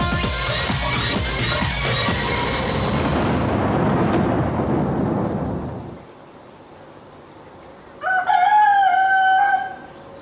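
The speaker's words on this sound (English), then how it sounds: "Peter punished for kicking the chickens" Chickens and a rooster in the Big Brother house: a loud rustling, scratching flurry fades into quiet, then a rooster lets out one clear, close crow near the end.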